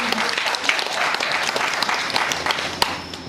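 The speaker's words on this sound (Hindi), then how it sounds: "उनके लिए थोड़ा ताली तो बनता है।" An audience applauds at a Hindi literary gathering marking a 97th birth anniversary, steady clapping from a room of people filling the whole stretch, with a few sharper claps standing out near the end.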